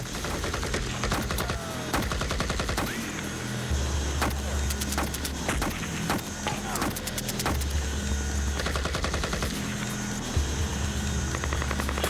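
Scattered gunshots and short bursts of fire echo from outside the aircraft door over a loud droning aircraft engine, with voices faintly in the mix.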